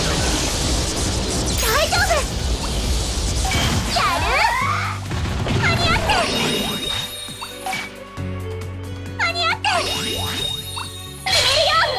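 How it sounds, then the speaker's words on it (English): Starlight Explosion finishing attack from Digimon World: Next Order, a run of loud crashing, whooshing and sparkling impacts layered over game music, with a voice talking over parts of it. "Starlight explosion!"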